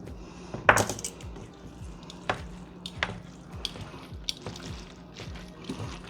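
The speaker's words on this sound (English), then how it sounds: "Mix this in a little bit." Spaghetti being stirred into sauce in a baking dish, with soft scraping and clinking of a utensil against the dish, plus a few sharper knocks, close and fairly quiet.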